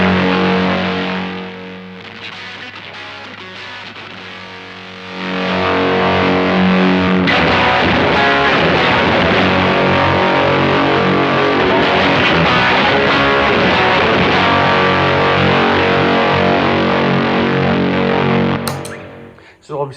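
A Ritual Devices Grimalkin Fuzz guitar pedal pushes an amp into thick, saturated distortion. Chords ring out loud and sustained, with a quieter passage before the volume-style claw control is raised and the fuzz swells fuller.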